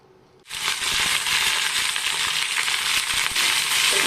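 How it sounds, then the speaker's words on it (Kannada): Chopped okra drops into hot oil with mustard seeds, setting off a sudden loud, close sizzle that holds as a steady crackling hiss of frying, with faint stirring clinks underneath. "ಈಗ ಹೆಚ್ಚಿಟ್ಕೊಂಡಿರೋ ಬೆಂಡೆಕಾಯಿ ಹಾಕೋಣ."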